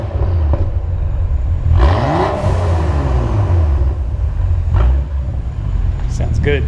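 A BMW F10 engine revs up in a rising sweep and then falls back, with a steady loud engine drone underneath and a few short sharp pops, heard close by while people talk.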